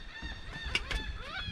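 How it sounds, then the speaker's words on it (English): Gulls calling overhead on the open deck of the Disney Dream cruise ship at sea, several honking, squawking cries in quick succession, fairly close and moderately loud above a steady background hum. "The seagulls are right on top of us."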